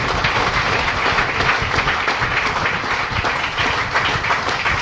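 Audience applause at a business income plan seminar, a dense, continuous roar of many hands clapping at fairly loud level, steady throughout with faint crowd murmur beneath.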